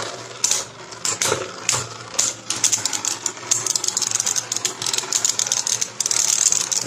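Beyblade spinning tops clash and whir in a plastic arena, with rapid clicking and scraping impacts and a bright, steady metallic spinning rattle, close and fairly loud.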